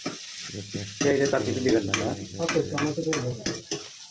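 Onions stirred in a hot pan during khepcha rice cooking, with a steady sizzle broken by repeated scraping strokes of the spoon, close and moderately loud, no talking.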